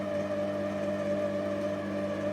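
An electric mixer runs steadily on low speed, mixing chocolate chip cookie dough in a kitchen, giving a continuous close motor whir with a constant hum and no talking over it.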